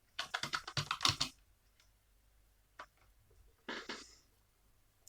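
Typing on a computer keyboard while editing on-screen text in video editing software: a quick burst of close key clicks, then a few isolated taps and a second short run of keystrokes, with no talking.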